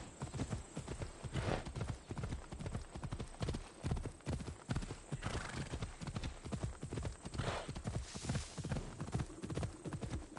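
A horse in Assassin's Creed Odyssey gallops with a fast, steady clip-clop of hooves that runs continuously and close, and a few faint whinnies break through the rhythm.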